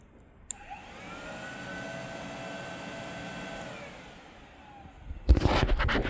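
Cooling fan on a Kawasaki VN900 motorcycle, forced on by an override, spins up after a click into a steady whirring hum lasting several seconds, then winds down before louder handling noises.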